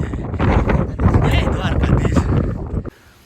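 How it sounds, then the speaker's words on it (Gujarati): Cold wind gusting hard across a hilltop on the climb to the Gopnath Mahadev shrine, roaring and buffeting loudly close to the microphone for nearly three seconds before dropping away abruptly. "ઠંડો એટલો પવન આવી રહ્યો છે એની વાત ન પૂછો"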